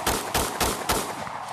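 Gunshots from a CZ Scorpion firearm ring out as four loud, sharp reports in quick succession, spaced a few tenths of a second apart, each trailing into echo.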